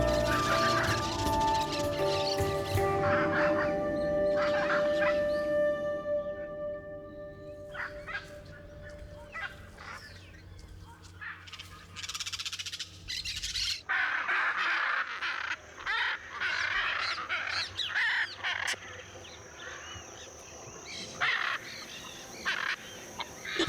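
Hyacinth macaws calling in the wild Brazilian wetland, harsh repeated squawks of varying loudness, some near and some farther off, over a busy background of other birdsong and ambient chatter, with no voices.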